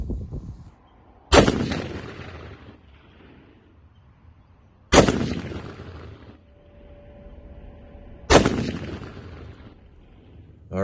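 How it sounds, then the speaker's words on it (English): Three loud rifle shots fired at 100 yards during ammunition load testing, evenly spaced several seconds apart, each a sharp crack trailing off in a long outdoor echo. "We're shooting at 100 yards, and we're gonna find out what this gun shoots best."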